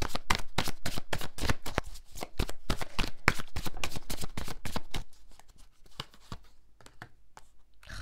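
Tarot cards are shuffled for a reading in a fast, crisp flurry of riffling and slapping that runs steadily for several seconds, then thins into scattered softer card taps close to the microphone.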